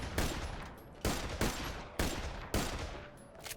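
Gunfire from a weapon in Borderlands The Pre-Sequel: about five sharp shots at uneven intervals, each followed by a ringing tail, with no voices over them.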